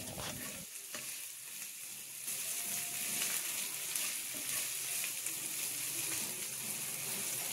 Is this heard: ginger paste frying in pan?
yes